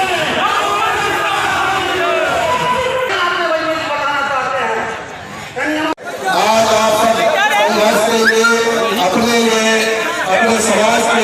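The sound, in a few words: large crowd at a farmers' protest site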